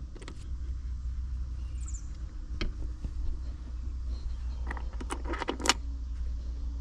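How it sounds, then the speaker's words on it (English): New bolts dropped into fresh suspension bushings under a 9th-generation Toyota Corolla, heard as a few light metallic clinks and jangles over a steady low rumble, with no voices. "you just drop your new bolts in right there"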